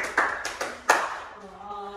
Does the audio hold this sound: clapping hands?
yes